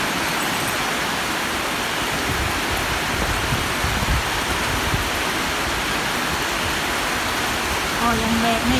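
Heavy rain pours steadily at an elephant camp, a dense, even hiss that fills the whole stretch without letting up, with faint voices and activity beneath it.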